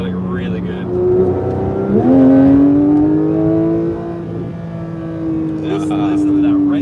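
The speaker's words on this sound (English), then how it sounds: "Listen to that right behind your head. That's crazy. You got the flat 6 engine." A 2022 Porsche 911 GT3 flat-six engine revs up with a rising, raspy tone, holds a high steady note, then climbs again, loud and close.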